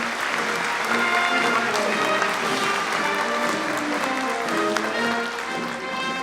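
Sustained applause from the audience at a formal solemn session honouring award recipients, dense and steady throughout with faint murmuring beneath.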